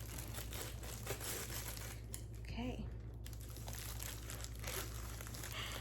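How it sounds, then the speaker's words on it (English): Scissors cut open a book mail package, with close crinkling and crunching of packaging material and a few sharp snips. Someone briefly speaks. "I'm just gonna open it with scissors"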